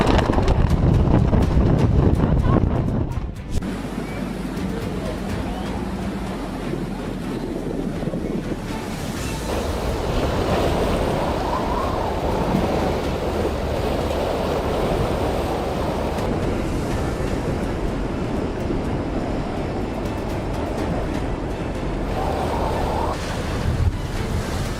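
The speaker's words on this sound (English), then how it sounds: "A small boat is violently rocking under fierce ocean winds." Storm-driven ocean waves crash and surge around a small boat tossing at sea, with fierce wind roaring across the microphone; loud, continuous churning with heavy buffeting, no voices.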